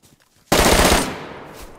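An AK rifle in DayZ opens up after a brief near-silence: a loud, close burst of rapid automatic shots that rings out and decays over about a second.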